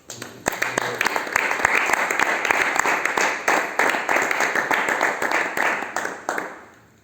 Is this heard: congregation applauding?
yes